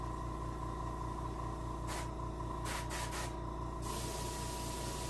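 An airbrush sprays paint onto a brown bullhead catfish taxidermy mount, a steady close hiss that cuts out in several brief pauses over a constant low motor hum, with no talking.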